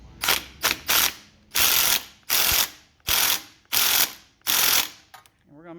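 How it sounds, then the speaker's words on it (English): Ratchet clicking in bursts as it tightens the starter bolts on a John Deere riding mower with a Briggs & Stratton engine, about eight loud, close rapid ratcheting runs separated by short pauses. "Now we just got to tighten the bolts."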